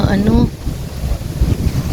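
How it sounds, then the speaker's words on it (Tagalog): Strong wind gusts buffet the microphone outdoors among potted flowering plants, a steady loud rushing roar throughout, with a brief voice-like tone at the start. "Ayan ang lakas talaga ng hangin."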